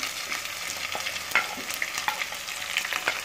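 Tomatoes frying with garlic in a pan, a dense crackling sizzle with occasional stirring scrapes, close and steady throughout with no talking.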